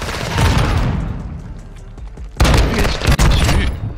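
A heavy boom from a grenade blast in a shooter video game lands amid continuous loud gunfire and rumbling, with a sharp onset partway through and dense shots continuing after.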